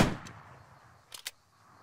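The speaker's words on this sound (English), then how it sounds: "Ranging shot right on him" One rifle ranging shot in the video game Arma 3, already decaying at the start, trails off into quiet, followed by two short sharp clicks a second later, fairly faint overall.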